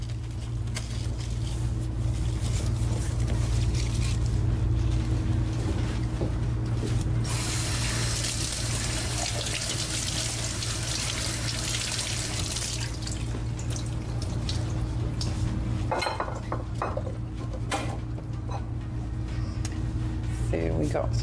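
Water runs from a kitchen tap over asparagus as it gets a quick rinse, a steady splashing hiss that swells in the middle and then gives way to a few drips and handling clatter, with someone talking.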